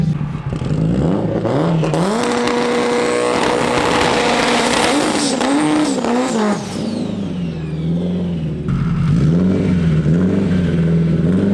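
A loud 1000 WHP Subaru STI drag race car revs hard and launches out of the hole, rising in pitch through the gears, then drops and revs again, steady and close.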